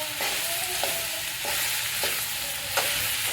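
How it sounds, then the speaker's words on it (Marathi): A spoon scrapes and stirs okra through spiced masala in a hot pan, five or six distinct strokes spaced under a steady frying sizzle, close and moderately loud, with no talking. "पूर्ण सगळं असं आपल्याला खालीवर करून हे मिक्स करून घ्यायचं"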